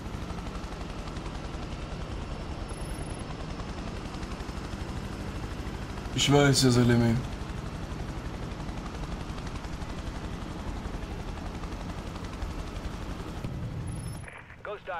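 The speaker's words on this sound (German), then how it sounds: "Aber cool, wir können hier in Heli fliegen" The helicopter in the video game Prototype drones steadily throughout, broken by a short burst of gunfire midway, while a person talks over it in German.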